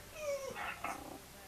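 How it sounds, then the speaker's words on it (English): A pet dog yawns close by, a brief squeaky whine rising and falling over about a second in a quiet room. "my dog's yawning now"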